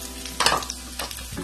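Sliced onions dropped into hot oil in a home kitchen pan, giving a brief burst of sizzle and frying crackle with stirring noise, then settling into a steady low hiss.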